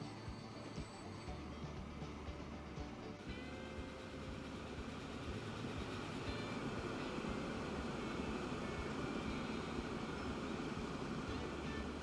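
A train runs in the video game Transport Fever 2, giving a steady, even rumbling hum that holds at one level throughout with no voices.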